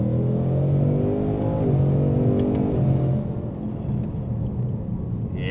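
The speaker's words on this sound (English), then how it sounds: "when you put it in manual and you downshift it down the third gear, and you have a nice straight road, and you just plant your foot down" A Roush or RTR Mustang making about 800 horsepower pulls hard after a manual downshift to third, its engine roaring loud and steady up close before easing off toward the end, with no talk.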